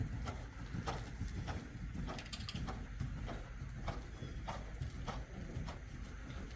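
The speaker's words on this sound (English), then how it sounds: "that's another horse coming in" Steady clip-clop of a carriage horse's hooves trotting on a hard surface, a regular rhythmic beat over a constant low rumble of background noise.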